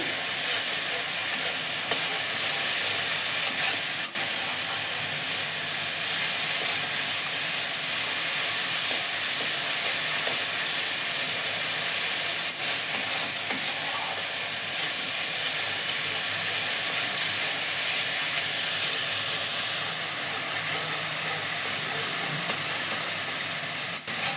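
Onions sizzling and frying in a pan for matar paneer, a dense continuous crackling hiss with occasional stirring clicks, close and steady with no talk.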